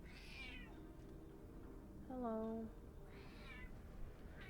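A single soft cat meow sounds in a low-gravity video game area, rising then falling, faint against steady background music, with a player speaking briefly before and after.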